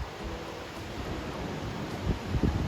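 Wind blows outdoors on a wet morning as a continuous broadband rush, buffeting the microphone with low gusty thumps that grow stronger toward the end. No voices are heard.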